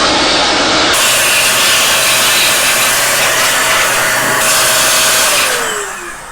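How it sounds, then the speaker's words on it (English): A computer air duster blasting compressed air through a Breville Barista Express BES870 coffee grinder, a loud continuous hiss with a steady whining tone that falls in pitch and tapers off at the end, alone without voices. "using this duster, I don't have to dismantle the grinder"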